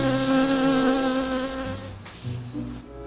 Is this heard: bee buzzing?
yes